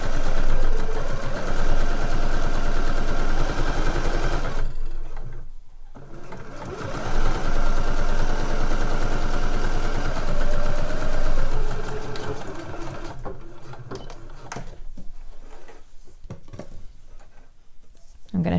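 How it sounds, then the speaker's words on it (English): A sewing machine stitches elastic onto the back of a fabric slipper boot in loud, fast running bursts, with brief pauses between runs. "we're just going to sew all the way along that elastic"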